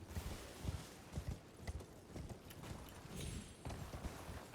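Horse hooves clip-clop in a steady walking rhythm across a dark fantasy video game landscape, close and moderately loud under a low wash of ambient game sound, with no talking.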